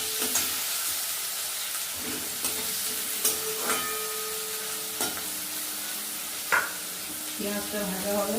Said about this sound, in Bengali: পেঁয়াজ কুচিটা দিয়ে দেবো।